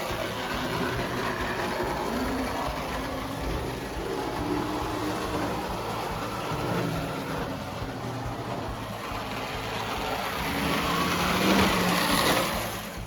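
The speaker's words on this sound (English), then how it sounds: "That motor's running sweet." A restored Marx Commodore toy train's electric motor runs steadily with a continuous whirring hum and a thin high whine, holding steady and swelling slightly near the end, with no talk.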